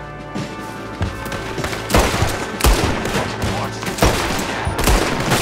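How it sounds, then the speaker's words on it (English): Rapid bursts of video game gunfire from Red Dead Redemption 2, several loud overlapping shots and volleys spread across a few seconds, with a steady game soundscape underneath. "I'm trying to shoot the rope."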